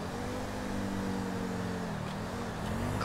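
Motorcycle engine humming steadily at low revs, its tone dipping slightly as the revs drop, close and continuous with no talk.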